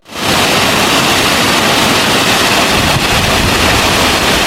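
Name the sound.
waterfall flowing strongly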